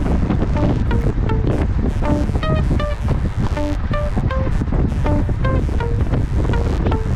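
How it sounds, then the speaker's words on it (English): Wind rushes loudly and steadily around cyclists riding at about 23 mph, buffeting the microphone, with faint repeated tonal chirps over the roar. "Wind swirling around us."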